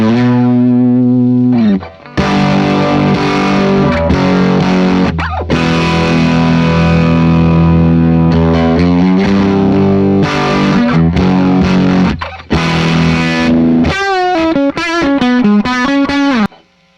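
Distorted electric guitar played through a preamp pedal, chords and riffs ringing out loud and close, with brief pauses between phrases and a fast run of notes at the end.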